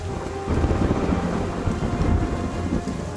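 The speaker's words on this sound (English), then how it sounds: "the rain grows heavier, the thunder louder" Heavy rain pours steadily through a thunderstorm, with deep rolling thunder rumbling beneath a dense, loud, continuous downpour and no voices.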